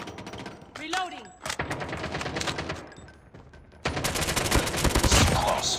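AS VAL and KRM 262 gunfire in a Call of Duty multiplayer match: dense bursts of rapid automatic shots and fusillades, with a louder sustained volley near the end, mixed with game announcer voice lines.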